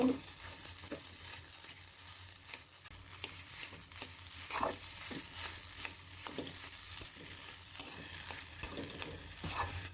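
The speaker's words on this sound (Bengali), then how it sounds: "যেহেতু আলুটা দেব পুরের সঙ্গে, আলুটা একটু ভেজে নেব।" Grated boiled potato frying in a pan, quiet steady sizzling with irregular scraping and stirring strokes of a spatula, close but faint and without speech.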